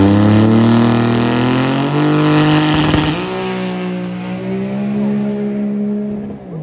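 A drag-racing car launches hard off the start line at a derby event, its engine note climbing through a long first gear before a gear change, loud and close with a slightly soft, strained tone.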